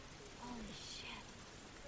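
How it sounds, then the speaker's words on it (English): Steady rain hiss fills a scene in the video game The Last of Us, soft and constant, with faint voices murmuring underneath. "It's raining."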